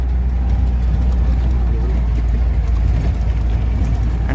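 A Jeep driving over a rough mountain track near Rama Lake in Astore, Gilgit-Baltistan, with a steady low engine rumble and road rattle, loud and constant throughout.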